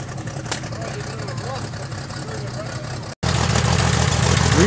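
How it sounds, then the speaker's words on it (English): A 1961 narrow-gauge Bombardier snow vehicle with a rebuilt Ford 300 six-cylinder engine idles steadily and loudly up close, a continuous low rumble that grows a little rougher after a short break. "6-cylinder Ford, 300 Ford."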